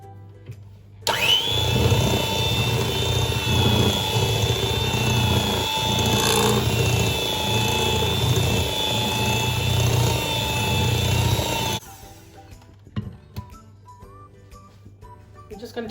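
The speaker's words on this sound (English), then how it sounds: "Whisk it again." An electric whisk beats Victoria sponge cake batter in a bowl, a loud steady motor whine running for about ten seconds before cutting off, with quieter clinks after.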